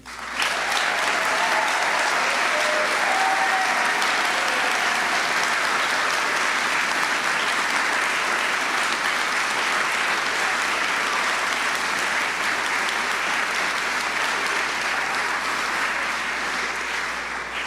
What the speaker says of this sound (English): big loud applause for absolutely every one of them